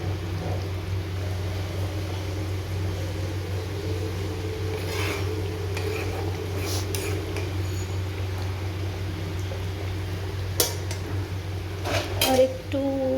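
Potatoes and papaya simmering in a cooking pot are stirred, with sparse metallic clinks against the pot rising now and then over a steady low kitchen hum.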